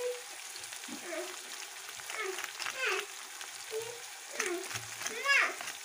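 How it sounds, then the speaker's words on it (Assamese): Red chilli, cumin, coriander and garam masala fry in a pan for chicken curry, a soft continuous sizzle with occasional stirring sounds running under intermittent talking. "এতিয়া গোটেইবোৰ ভালদৰে ভাজি লওঁ"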